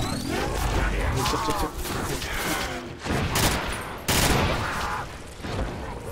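Sustained gunfire in a Call of Duty zombies custom map set at a shooting range, dense rapid bursts running almost continuously with a couple of sharper loud blasts, under game noise.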